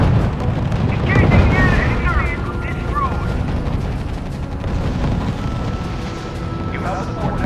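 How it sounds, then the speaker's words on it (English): Artillery fire and explosions in the WWII strategy game R.U.S.E. near Kasserine, a dense, continuous rumble of booms and blasts with a heavier burst early on, under a battle soundscape with radio-style voices and chatter. "Our units are under fire."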